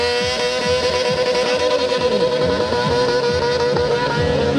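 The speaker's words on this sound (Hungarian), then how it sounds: "És egyből gumi égetés. Egyből a burnout." A motorcycle doing a burnout at a competition event, its engine revving hard and loud in repeated rising and falling surges with a harsh continuous roar of spinning tyre, very close and filling the whole stretch.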